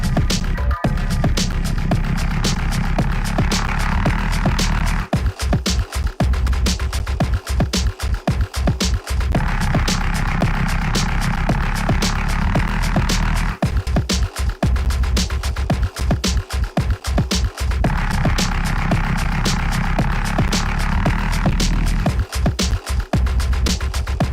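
Heavily distorted, saturated drums pound at full level, a crushed, fuzzy wall of sound with repeating sections and no talk.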